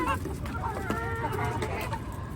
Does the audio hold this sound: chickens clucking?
yes